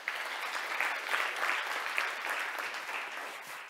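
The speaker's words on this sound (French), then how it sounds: "Alors, on les applaudit aussi." An audience claps steadily at a tech awards ceremony in Montreal, a dense, even patter of many hands that holds for several seconds without cheering.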